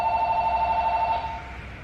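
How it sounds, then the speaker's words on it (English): A phone rings with a steady pulsing electronic tone that warbles rapidly, fairly loud and close, then cuts off partway through, with no talking over it. "and there goes my phone."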